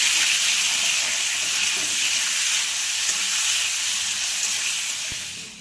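Potato pieces frying in hot oil with salt and a little turmeric give a loud, continuous sizzle and hiss that holds steady and fades slightly at the end, with occasional stirring.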